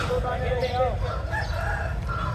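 An Aseel rooster crows nearby at a Sunday rooster market in Lalukhet, Karachi, its rising call standing out over a steady background murmur of voices and farm noise.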